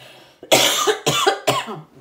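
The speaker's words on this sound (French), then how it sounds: "Cette saison, je tousse." Three harsh coughs in quick succession, close and loud, after a brief quiet moment.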